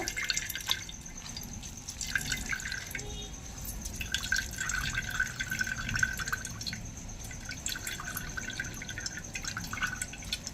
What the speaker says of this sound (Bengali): দেখুন এইভাবে করে রস বের করব, কত সুন্দরভাবে রসটা বেরিয়ে যাচ্ছে